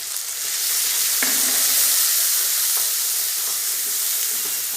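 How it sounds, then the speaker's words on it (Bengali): Ground cumin, coriander, chilli and turmeric hit hot oil in a pan of cabbage and peas, giving a loud, steady sizzle with a few faint clinks of stirring and no speech. "যে গুঁড়ো মশলা রেখেছিলাম জিরে গুঁড়ো ধনে গুঁড়ো লঙ্কা গুঁড়ো হলুদ গুঁড়ো সব দিয়ে দিচ্ছি"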